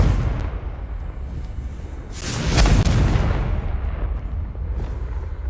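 A Confringo blasting spell goes off in the Hogwarts Legacy game as a single deep boom that swells and then fades, heard over a steady low game ambience.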